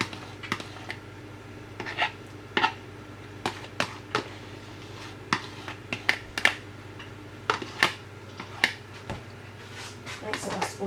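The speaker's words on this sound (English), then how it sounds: "At this point you're going to need a tablespoon to mix everything in together" A tablespoon clinks and scrapes in a bowl, folding a banana mixture into a sponge cake batter in sharp, irregular taps over a low hum, with a voice talking at times.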